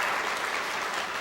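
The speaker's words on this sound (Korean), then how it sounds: "우리 환영의 박수 한번 하십시다." A congregation in a church service gives welcoming applause, a brief burst of steady, even clapping from many hands.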